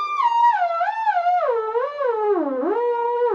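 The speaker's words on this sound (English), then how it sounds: "A standard theremin sounds like this." A standard electronic theremin plays a single wavering, gliding pitch with wide vibrato, swooping up and down in pure, close tones for a few seconds with no other sound.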